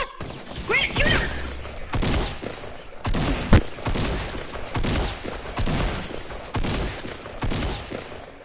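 Fortnite gunfire: repeated loud shots and bursts at irregular intervals across the whole stretch, with players talking excitedly over it.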